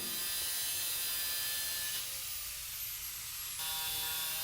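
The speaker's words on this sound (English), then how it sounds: "I'm cutting off those corners there with the angle grinder" An angle grinder trims the corners of forged scrap steel for a gardening tool, producing a continuous high, thin whine that dips briefly partway through before resuming at a moderate distance.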